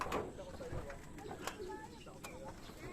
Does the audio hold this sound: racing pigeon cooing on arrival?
yes